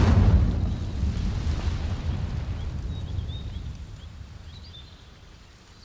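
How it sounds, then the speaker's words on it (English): An Incendio fire spell in Hogwarts Legacy ignites dry vines with a loud low whooshing burst that rumbles and slowly fades over several seconds, with faint chirps above. "These dry vines are one spark away from becoming kindling. Incendio!"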